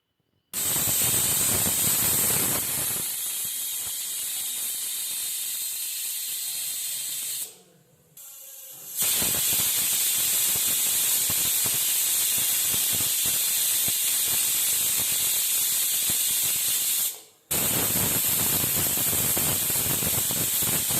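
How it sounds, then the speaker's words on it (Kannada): Pressure cooker cooking tomato rasam, its whistle letting off a loud, harsh, steady hiss of steam that runs for long stretches, broken by two short gaps, with no talking. "ಇವಾಗ ಕುಕ್ಕರ್ ಕ್ಯಾಪ್ನ ಕ್ಲೋಸ್ ಮಾಡಿಬಿಟ್ಟು ಒಂದು 3 ವಿಷಲ್ ಕೂಗಿಸ್ಕೋಬೇಕು."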